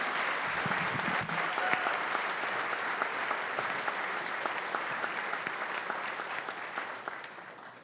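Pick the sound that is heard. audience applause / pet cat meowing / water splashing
audience applause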